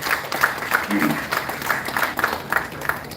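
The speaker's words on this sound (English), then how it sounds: "I think all of us, we should clap in this absentia." An audience at a Kashmiri Hindu Sabha gathering claps in tribute to an absent artist, a run of moderately loud, irregular claps with a voice heard faintly underneath.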